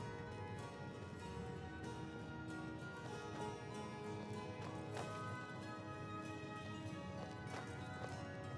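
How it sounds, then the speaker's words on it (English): Horse hooves clip-clopping in the video game Skyrim, a steady rhythmic trot of close, distinct hoofbeats over a continuous ambient game bed. "Horse."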